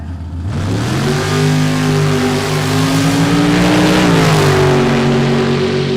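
A two-seat dragster launches and accelerates down a drag strip, its loud engine climbing steadily in pitch through several gears, then briefly easing before holding a strong roar near the end.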